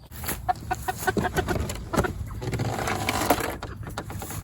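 Several chickens cluck close by in quick, choppy bursts, overlapping one another against a busy farmyard background.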